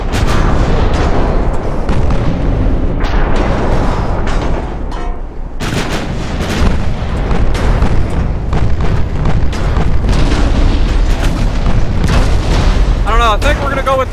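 Heavy naval guns firing armor-piercing shells in Ultimate Admiral: Dreadnoughts, loud repeated booms and artillery blasts rolling through a continuous battle din, with someone talking over them.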